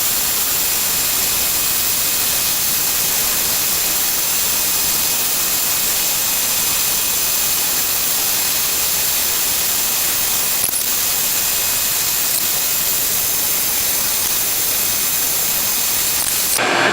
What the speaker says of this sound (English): just put them on my little spindle sander and then just sand all this stuff out nice and smooth.